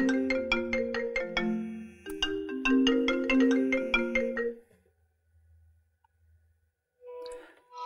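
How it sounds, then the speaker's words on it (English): An iPhone running iOS 7 plays its incoming FaceTime call ringtone: a bright, rhythmic melodic pattern of repeated tones, loud and close, which stops partway through and gives way to near silence before a faint sound at the end. "Now let's see what it looks like when you get a FaceTime call."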